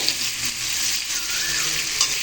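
Chopped onion sizzles loudly in hot oil alongside tomato, papaya and potato, a continuous bright frying hiss with faint stirring, heard close and alone.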